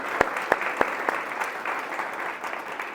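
A church congregation claps together in praise, a dense steady patter of many hands with a few sharp, louder claps standing out near the start, filling the whole stretch without talk.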